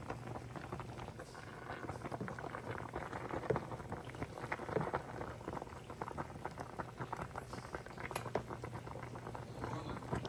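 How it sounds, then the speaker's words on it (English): A pot of water boils on a stove in a kitchen during tomato canning, giving a steady, soft bubbling and pattering that stays even and fairly quiet throughout, with no talk. "Another pot of water on the stove heating up over here."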